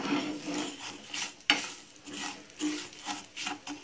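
Vermicelli roasting in a pan over a low flame, stirred constantly with a spoon that scrapes in repeated close, dry swishes and a sharp knock against the pan, with a soft sizzle beneath and no talking.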